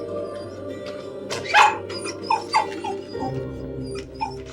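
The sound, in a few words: dog whimpering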